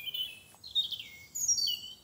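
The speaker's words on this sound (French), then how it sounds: "Et du coup, t'entends les oiseaux, mais tu les vois pas." Birds sing unseen in leafy trees, with faint high chirps and short trilling phrases coming in bursts from a distance over quiet outdoor background noise.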